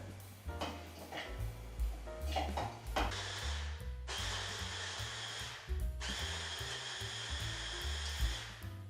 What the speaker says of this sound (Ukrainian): Спробую перебити в блендері.